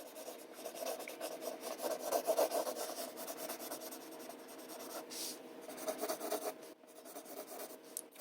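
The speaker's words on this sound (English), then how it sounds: "let's just rely on our ability to draw freehand a straight line" A pencil is drawn freehand across paper in a straight line while sketching a cartoon character, a soft, steady scratchy rub that continues for several seconds at close range.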